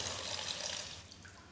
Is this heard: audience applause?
no